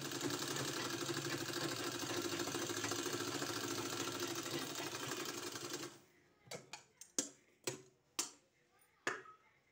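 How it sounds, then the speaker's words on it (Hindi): A sewing machine stitching kurta fabric runs loud and steady for about six seconds, then stops, followed by several sharp separate clacks and thumps. "वहीं हमको पूरा में सिलाई लगाना है। पूरे में सिलाई लगा देना है इस तरह से।"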